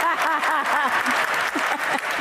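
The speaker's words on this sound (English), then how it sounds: "Give her a round of applause." Audience applause for a speaker at a talk, with clapping running continuously under a prominent, close voice speaking over it.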